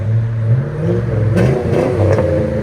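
A 2005 GMC Sierra with a 5.3L V8 and a Flowmaster Super 50 exhaust, loud and close, with a deep idle that rises into a couple of quick revs and then settles back to a throaty rumble.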